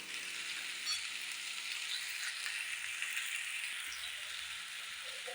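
Ground coriander and spices frying in hot oil in a pan for a dhaba-style potato curry, a steady bright sizzle throughout, close and even with no voices.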